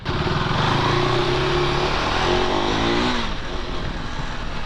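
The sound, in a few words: KTM Adventure 390X motorcycle engine on test ride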